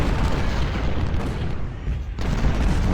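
Artillery fire in the Civil War strategy game Ultimate General: Civil War, Battle of Chantilly, sounds as a dense, continuous rumble of booms and gunfire that dips briefly before surging back loud.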